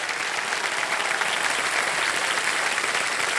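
Steady, loud studio-audience applause on the set of the Indian quiz show Kaun Banega Crorepati, a dense wash of many hands clapping that continues unbroken throughout.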